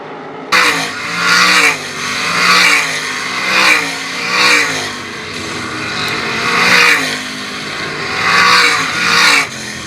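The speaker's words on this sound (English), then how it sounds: "Paul Weaver now in front and in charge, pulling away now from Dustin Dinan" 305 sprint cars racing in a heat at Attica Raceway Park, engines rising and falling in repeated loud revving sweeps as the cars pass in a rhythmic, surging roar.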